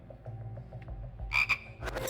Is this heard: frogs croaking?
yes